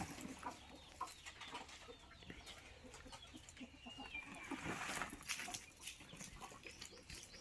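Chickens on a Maharashtra poultry farm with a compound and sheds cluck and chatter in scattered, overlapping bursts, with some wing flutters and steady farmyard background noise, and no talking.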